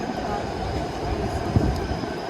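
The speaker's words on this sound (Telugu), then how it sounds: "స్ట్రీట్ కార్ ఇది వచ్చేసింది, ఇంకెక్కేద్దాం." A streetcar rolling in on street tracks in Canada, a steady low rumble of wheels on rail with a brief knock near the end, heard up close.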